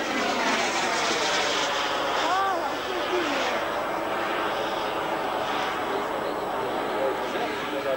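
A Jet 4 120 model jet turbine engine runs with a steady, loud, broadband roar and whine that holds throughout, while a voice talks over it.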